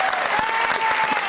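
Applause from a studio audience on a Christmas special of a TV music quiz show, a loud, dense burst of clapping heard close up over its short length, with a thin sustained tone underneath.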